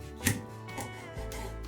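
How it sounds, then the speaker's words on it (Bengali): A knife chops capsicum on a board in a few separate, close strikes, one sharp cut standing out among softer taps, with no talking. "এরপর ক্যাপসিকামটাও কেটে নেব।"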